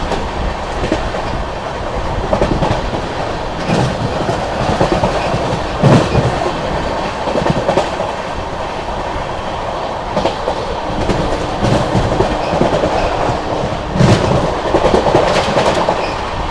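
Vikramshila Express passenger train running at speed through Etawah Junction, a steady loud rumble with rhythmic clickety-clack of wheels over rail joints sustained throughout, no voices.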